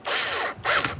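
Two rapid bursts of ratcheting as a bolt is driven into plastic on a 2004-2005 Scion xB liftgate handle garnish, close and loud, with a short pause between them.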